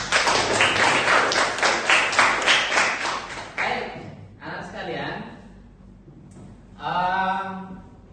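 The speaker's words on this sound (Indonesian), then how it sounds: "Aplaus untuk kita semua." Classroom applause from students during a lesson, a burst of clapping for the first few seconds that fades, followed by a teacher's voice speaking.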